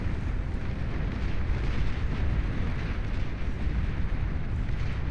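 Turrets being destroyed in the real-time strategy game Beyond All Reason, a dense, continuous roar of booming explosions and battle rumble, loud and unbroken.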